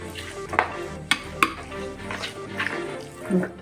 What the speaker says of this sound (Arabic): نقلب كويس برضو